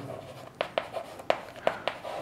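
A pen writes an answer line on paper in a few short, scratchy strokes, quiet and close, with faint background hum between the strokes.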